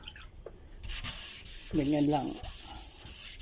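Varnished wood is wet sanded with water in steady, close rubbing strokes, while someone talks briefly over the scraping.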